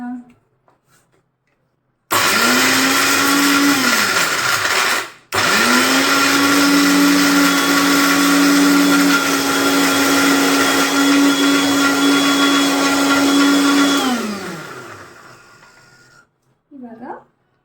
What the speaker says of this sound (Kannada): ಈಗ ಇದನ್ನು ಗ್ರೈಂಡ್ ಮಾಡ್ಕೊಳ್ಳೋಣ.